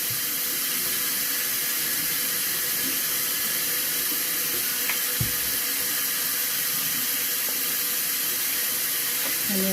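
Hot tap water pours steadily into a container with baking soda and vinegar, a loud, close, continuous hissing rush with no talk.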